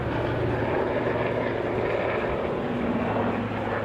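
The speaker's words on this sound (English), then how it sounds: "there's a really loud helicopter." A loud helicopter passing overhead, a dense continuous rumble with a low throbbing hum holding steady throughout the few seconds.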